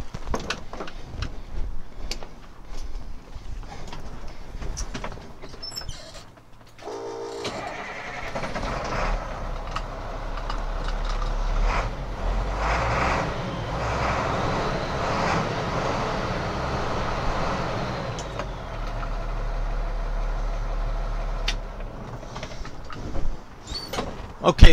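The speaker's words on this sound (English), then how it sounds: "start it so you can hear that remanned engine going" A 1998 International 4700 truck with a remanufactured engine cranks, catches and settles into a steady, rumbling diesel idle, heard up close and loud for most of the stretch.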